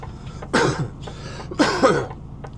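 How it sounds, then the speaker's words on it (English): Two harsh, chesty coughs, each a burst of a few rough hacks about a second apart, close to the microphone with no talking. "I'm still trying to get over a horrible chesty cough."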